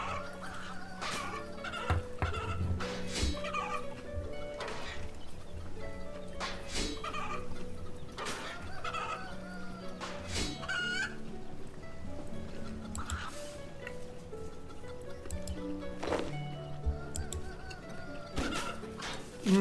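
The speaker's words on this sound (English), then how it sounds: "Let me just kill one of these birds." Chickens cluck intermittently in RuneScape 3, short scattered fowl calls spread across the stretch above a constant ambient game background, with occasional clicks and effects.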